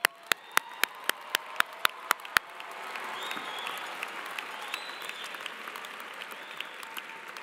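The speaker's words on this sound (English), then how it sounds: "we can clap for that" At a university commencement ceremony, a few sharp, distinct claps ring out at first, then scattered applause from the crowd spreads and continues softly at a distance.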